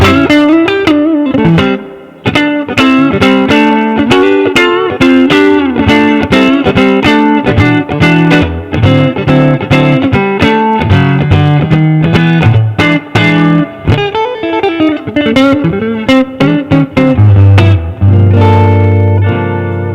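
Fender Custom Shop 54 60th Anniversary Stratocaster played through the neck pickup ('69 pickup), a loud, distorted electric guitar riff with rapid picked notes and chords, ending on a sustained chord, with no talking.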